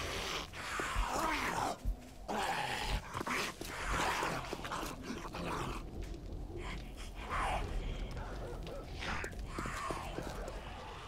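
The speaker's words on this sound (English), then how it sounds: "They're barking somewhere." Dogs bark and growl in 7 Days To Die, with repeated bursts of barking spread through a busy, noisy game mix.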